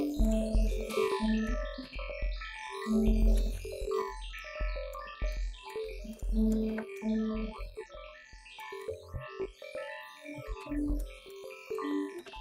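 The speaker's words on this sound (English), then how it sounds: "Sounds like they're in a resonator." Dripping, plinking synthetic drops processed through a resonator effect, ringing with pitched metallic tones in a dense, busy texture that continues throughout at a moderate level.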